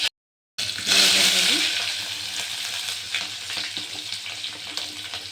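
Curry leaves and tempering spices hit hot oil in a pan, bursting into a loud crackling sizzle that settles into a steady fry, with a few faint scrapes and clinks from the pan.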